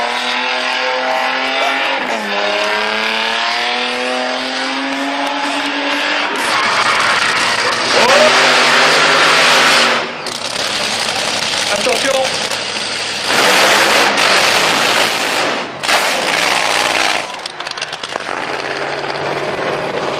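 A drag racing car at a drag show revs hard during a tire burnout, engine pitch climbing then giving way to loud roaring bursts and tire noise, with a commentator talking over the racket throughout.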